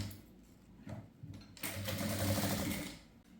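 A sewing machine stitches a folded blouse yoke piece in short stop-start bursts, then runs in one longer continuous whir, close and fairly quiet.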